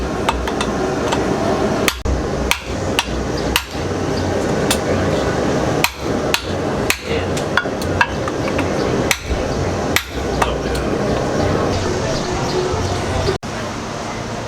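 Repeated hammer blows while punching the eye through a forged hammer head, a steady series of sharp metallic strikes at close range, some in quick pairs, over a constant background noise.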